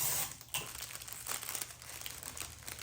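Paper crinkling and rustling as the edges are folded up for a Valentine heart rose box, with soft close crackles and brief crisp bursts continuing steadily throughout.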